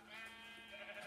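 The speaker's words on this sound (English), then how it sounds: "So let's just kill this sheep" A Minecraft sheep bleats as it is killed in the game, one short, wavering cry heard clearly over about a second.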